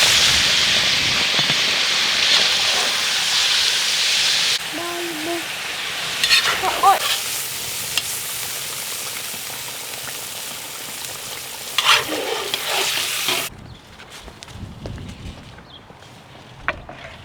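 Meat searing in hot oil for tas kebab, a loud, dense sizzle that runs steadily, with occasional stirring clatter, then cuts to quieter kitchen sounds near the end.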